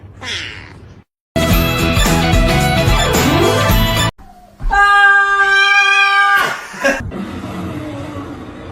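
A kitten meows in several distinct, close cries with gaps between them, one long drawn-out high mew standing out, mixed with brief musical sound.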